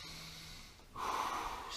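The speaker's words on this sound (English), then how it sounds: "Focus on my breathing." Deep, slow breathing during a lower-body foam rolling session, heard as a close, soft inhale followed by a stronger, airy exhale, with no talking.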